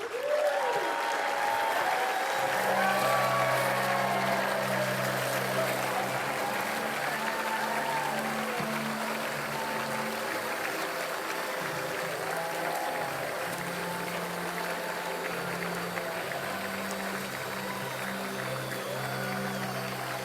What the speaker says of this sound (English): let's give all of our award winners one final round of applause